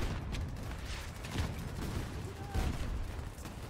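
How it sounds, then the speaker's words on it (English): Dense bursts of gunfire and booming explosions crackle continuously in a 128-player Battlefield 2042 match, with heavier blasts standing out now and then, a chaotic battle din. "Bullets are going. Explosions are happening."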